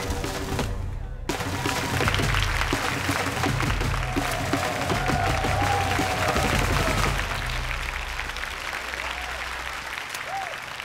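Party guests at an annual carnival party applaud to welcome a minister: a long, loud wash of clapping over a low, steady musical hum that swells early on and then eases slightly toward the end.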